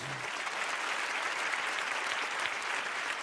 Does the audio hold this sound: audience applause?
yes